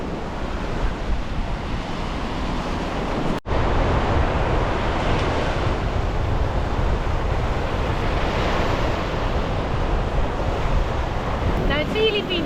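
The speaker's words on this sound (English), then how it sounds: "it's the stormy weather that kind of really produces the waves and that noise that we just kind of love" Storm waves crash along the Baltic coast in Germany, a loud, continuous roar of surf mixed with gusting wind buffeting the microphone, with a brief dropout partway through.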